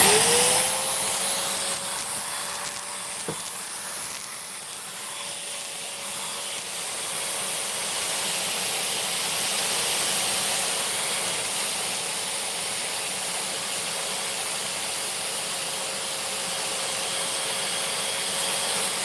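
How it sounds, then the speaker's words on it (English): A small finger sander, a miniature belt sander, whines as its motor spins up, then settles into a steady, hissing whir as it sands, running continuously for about twenty seconds. "That tool is called a finger sander. It's like a belt sander, only really small, and it gets into tight places."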